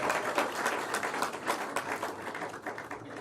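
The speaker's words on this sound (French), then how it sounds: "on applaudit très fort ce speech de Chenouti Lobola Loilondo" An audience at a Pan-African prize ceremony applauds a speech, a moderately loud, steady round of clapping with distinct individual hand claps, continuing evenly throughout.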